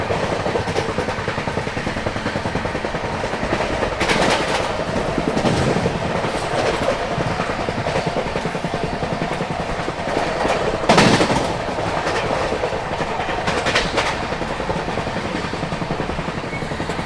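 The Jaipur-Chennai express train passing alongside, a continuous loud rumble with clickety-clack of wheels over rail joints and brief whooshing swells as coaches go by, with no talk.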